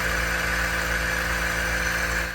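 The failing suspension air ride compressor on a GMC truck runs with a loud, steady droning whir and a constant mechanical hum, heard close up with no talking.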